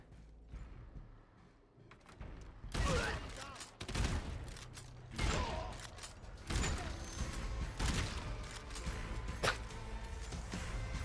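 Shotgun blasts in the video game Dying Light: The Beast, several loud booming shots spaced a second or two apart amid mechanical clatter and impacts.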